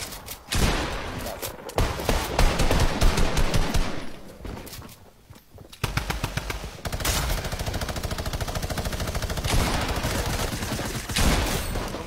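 Fortnite squad match gunfire: loud, rapid automatic bursts, then a short lull before steady rattling fire resumes and runs to the end.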